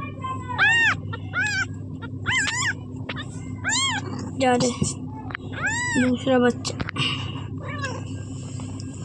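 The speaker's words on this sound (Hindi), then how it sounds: "ये बिल्ली है, वो जो फर्स्ट वाला था वो बिल्ला था, और ये है बिल्ली।" Several cats meowing in a home, a string of clear, close, rising-and-falling meows scattered across the stretch, with a person talking over and between them.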